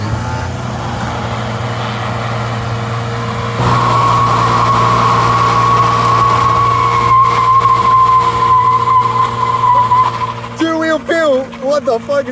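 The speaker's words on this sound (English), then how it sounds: "let's see a little burnout" A 3-litre swapped BMW E36 revs loudly for a burnout, a steady engine drone rising into a sustained high whine that fades as voices break in near the end.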